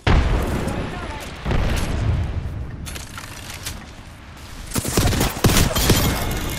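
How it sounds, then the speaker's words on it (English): An arc star grenade thrown and detonating in Apex Legends, a dense spread of booms and crackling blasts amid ongoing gunfire and game noise, with a voice calling out over it. "Throwing arc star."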